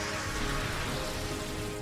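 Steady rain weather effect from the video game Pokémon XD, a dense, continuous hiss of drops pattering on a surface, fairly loud and alone with no voices.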